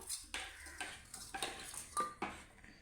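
A spoon clinks and scrapes against a bowl as raw mango and onion are mixed into koozh, several distinct close strokes in an uneven rhythm, quiet and without voices.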